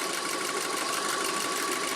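A VW Passat 2.0T turbo engine with a misfire runs steadily at about 2,000 RPM, giving a continuous, even mechanical drone with a faint rhythmic pulse and a thin whine riding on top. The engine is recorded close up, with no voices.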